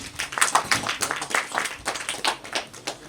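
An audience at a solar power plant commissioning at Stoni Athi claps in scattered, uneven bursts, fairly faint and thin, like a small crowd applauding briefly.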